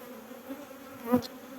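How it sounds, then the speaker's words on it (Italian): Honeybees at a hive buzz on a mild calm day, a steady close droning hum with a brief louder swell as one passes near. "oggi le api non so perché sono abbastanza nervose"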